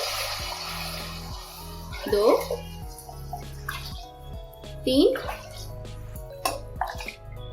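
Water poured bowl by bowl into a hot cooking pot with oil for dal chawal, two distinct splashing pours a few seconds apart over a steady background, with a voice counting along.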